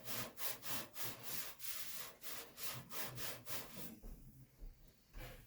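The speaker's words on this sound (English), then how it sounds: "take some Scotch-Brite and just kind of clean up the pipe here" A Scotch-Brite pad scrubs a water pipe clean of old corrosion before a shut-off valve is fitted, in quick rhythmic back-and-forth rasping strokes, about a dozen in a row, then a short pause and a final stroke.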